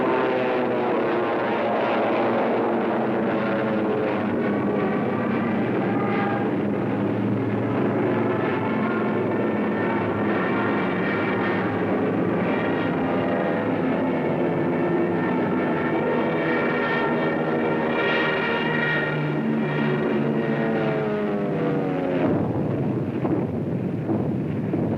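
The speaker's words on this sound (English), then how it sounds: "Fighters waited overhead for the defending planes of the Royal Air Force" A World War II aircraft over the English Channel during the Battle of Britain gives a steady, loud droning engine roar that holds for the whole stretch, with a buzzing tone and wind rush and no voices.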